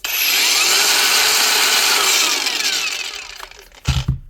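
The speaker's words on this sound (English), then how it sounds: "That's the first Mellif cordless grinder up and running again" Repaired Mellif cordless angle grinder running at full speed, a loud, close, high whine that holds steady and then winds down, ending with a couple of clunks as it stops.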